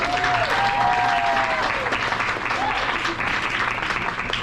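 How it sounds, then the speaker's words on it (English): A crowd at a high school sports end-of-season banquet claps steadily for several seconds, broad and continuous, with a few whistles and a voice faintly audible over the applause. "One more round of applause."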